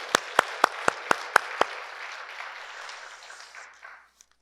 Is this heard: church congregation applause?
yes